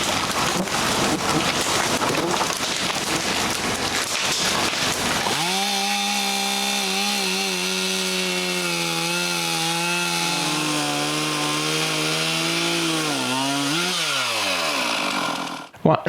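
Near the start there is rough crackling noise, then a chainsaw cutting a big fallen tree at a chalet revs up and holds a loud, steady drone with small pitch dips. It bogs down sharply near the end before cutting off.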